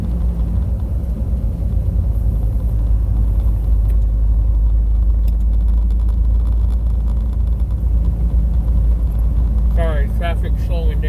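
Road noise inside a car on the interstate as traffic slows: a constant, loud, low rumble and tyre drone, with a brief voice near the end.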